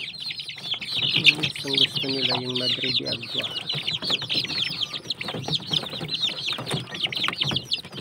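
Hens cluck and chicks peep in a steady, busy chorus close by while being fed madre de agua plants, as a person talks over the birds.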